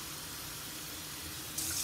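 Water runs steadily from a tap to fill a blender for a natural protein shake with spinach and garlic, a soft, even rush with a slight change near the end.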